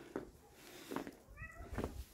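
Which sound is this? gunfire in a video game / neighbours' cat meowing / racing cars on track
neighbours' cat meowing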